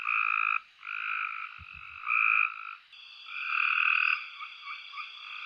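Two male tree frogs call close together in overlapping bursts of buzzing trills, stopping and starting over a steady chorus, with a faint low thump partway through.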